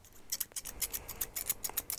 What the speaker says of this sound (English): The first one I got is the scissors.